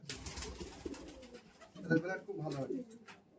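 Giribaj pigeons coo in low, rolling bursts near the microphone, while someone talks over them and other soft loft noises carry on behind.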